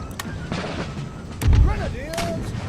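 Musket volleys and artillery fire in an Empire: Total War battle crack and thump in brief bursts, with one heavier low boom in the middle, under light battlefield noise.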